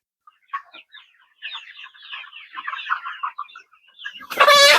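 A layer hen clucks in scattered short bursts while being caught for debeaking, the calls growing busier and ending in a loud, harsh squawk up close.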